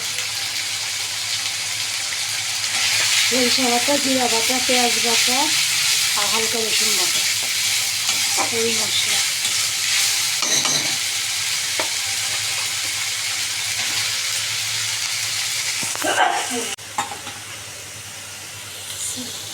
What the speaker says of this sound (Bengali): তেলের উপরে মশলাটা এখন ভালো মতো কষাই নিবে